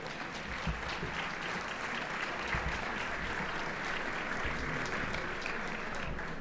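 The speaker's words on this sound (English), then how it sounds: "Let's give them a round of applause for their support" Steady, dense applause from a large audience at the 2012 Chicago Silver Circle awards event, sustained and even in level for several seconds with no voices rising above it.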